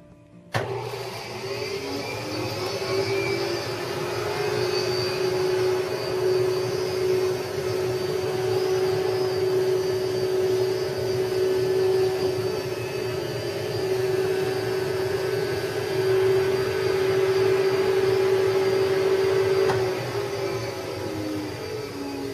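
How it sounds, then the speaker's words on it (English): A vacuum machine drones steadily for about twenty seconds as it blows down filling into a duvet quilt square, with a constant airy whine that starts and stops abruptly. "Now I vacuum the down out of the box and blow it into the quilt"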